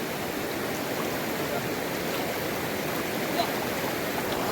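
River water after heavy rain flowing in a steady, broad rush that holds even and unbroken throughout, close and moderately loud.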